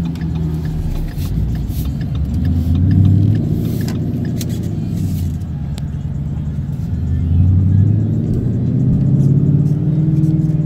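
A Ford Mustang GT's engine heard from inside the cabin while driving, a steady low rumbling drone that swells twice as the throttle rises and eases, with road noise underneath.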